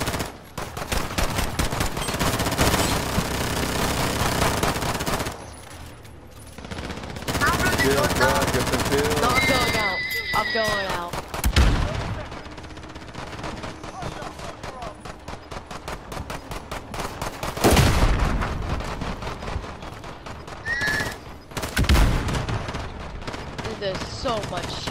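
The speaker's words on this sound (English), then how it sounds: "there's so much shooting going on" Heavy, near-continuous gunfire with bursts of rapid automatic shots in a Call of Duty infected match, broken by brief pauses and punctuated by louder blasts, with players talking over it.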